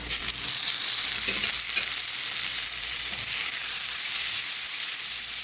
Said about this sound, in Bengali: সবজিটাও ভেজে নেব লবণের সাথে